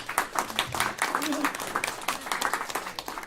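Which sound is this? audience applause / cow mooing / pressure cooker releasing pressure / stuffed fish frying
audience applause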